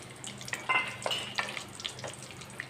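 Dry coconut, chopped almonds and raisins frying in ghee, with soft crackling bursts and a few scrapes of a spoon in a pan, close and fairly quiet.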